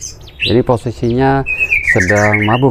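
A white-rumped shama (murai batu) kept in a cage gives brief high whistled notes, mostly under someone speaking close by.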